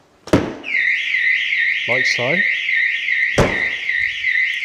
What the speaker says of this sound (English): So if I open that up, the alarm should trigger,